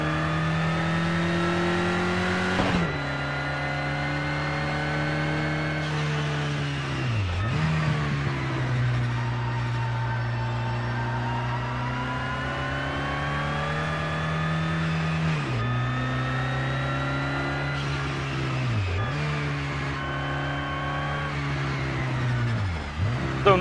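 Racing car in Project Cars 2 cruising casually toward the garage, its engine holding a steady, close drone throughout, with brief dips and rises in pitch at gear changes every few seconds.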